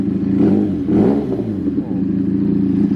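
Loud exhaust note from a 2019 Benelli TNT 300 motorcycle, idling close by with two quick blips of revving early on, as someone talks over the engine.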